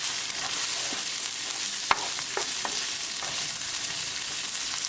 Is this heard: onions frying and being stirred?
yes